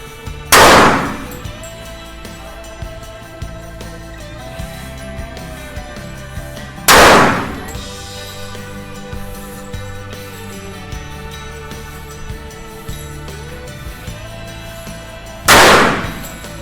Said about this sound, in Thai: คราวนี้เดี๋ยวมาดูอาจารย์เบียร์ทดสอบยิงนะครับ ใช้กระสุนเซมิวัตคัตเตอร์เหมือนกันบรรจุ 5 นัด ระยะ 10 เมตรเหมือนกัน